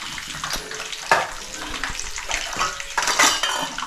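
Ginger garlic paste fries in a pan with a soft sizzle, broken by a metal spoon scraping and clinking against the pan several times, close and unaccompanied by speech.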